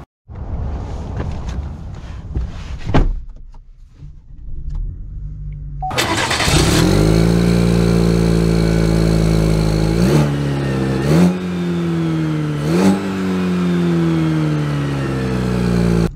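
A 2023 Chevy Silverado 1500 Rally Edition pickup truck cranks with a whirring starter, fires into a loud idle, then revs sharply two or three times, each surge rising and falling, recorded close and with no talking.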